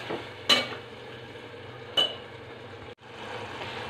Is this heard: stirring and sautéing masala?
yes